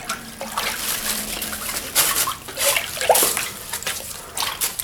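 Paint is whisked off the water surface of a dipping tank during hydro dipping of a deer skull. Close water sloshes and swishes in several uneven strokes, with a soft trickle between them.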